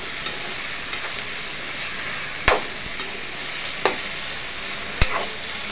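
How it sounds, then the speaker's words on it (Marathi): Okra being tossed into fried onions in a pan, a soft continuous sizzle broken by a few sharp clinks and scrapes from stirring spaced a couple of seconds apart, with no talking. "आता आपण याच्यामध्ये भेंडी घालूया आणि आपण छान त्याला हलवून घेऊया"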